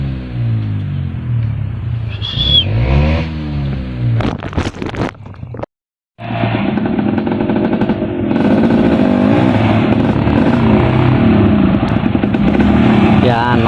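Off-road motorcycle on a dirt trail, engine revving and droning loudly up close with rising and falling pitch, a brief cut to silence midway, then a sustained rough roar.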